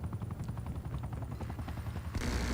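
A helicopter's minigun fires in Call of Duty: Black Ops Cold War as a dense, continuous rattling roar over rotor drone, steady and fairly loud, with no talk.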